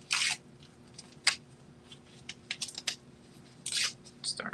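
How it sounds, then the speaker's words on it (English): Tearaway embroidery stabilizer is torn by hand at close range in a few short, crisp ripping bursts separated by quiet pauses. "So I'm just going to start tearing this stabilizer"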